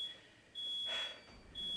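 A thin, high-pitched electronic beep sounds in steady repeated bursts during a power outage, fairly quiet, with no voices.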